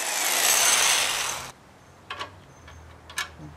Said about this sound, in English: Now what I need to do is line up the holes and drill for the bolts.